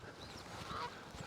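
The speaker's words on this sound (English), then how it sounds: "You two Canada geese can bugger off." Canada geese honking nearby on a farm with new grass, a steady run of harsh, overlapping honks over outdoor ambience, fairly loud and close, with no talking.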